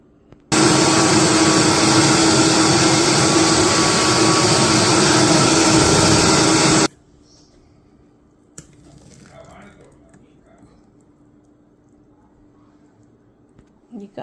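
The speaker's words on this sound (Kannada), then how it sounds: "ಸ್ವಲ್ಪ ಉಪ್ಪು, ಆಮೇಲೆ ನೀರು ಹಾಕಿ ಗ್ರೈಂಡ್ ಮಾಡಬೇಕಿದು" A grinder churns dosa batter for odu dosa with added salt and water, giving a loud, steady whirring roar for about six seconds before cutting off abruptly, followed by quiet handling noises and a faint clink.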